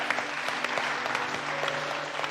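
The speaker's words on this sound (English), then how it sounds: "Give yourselves a round of applause" Studio audience applause from a cooking competition show, steady dense clapping that fills the whole stretch at a fairly loud, even level with no talk over it.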